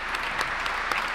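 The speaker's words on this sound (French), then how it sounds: "donc vous pouvez l'applaudir, s'il vous plaît." A live audience gives a short burst of steady applause, a continuous wash of clapping with a few sharper claps standing out.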